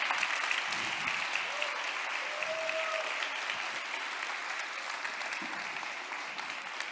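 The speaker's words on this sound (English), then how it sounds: "give me really a big round of applause, like properly" A conference audience at a tech event rises in a sustained standing ovation, dense steady applause filling the room for several seconds without a break.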